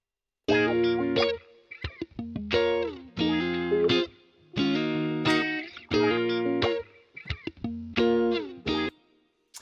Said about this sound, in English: basically just using the wah pedal as I said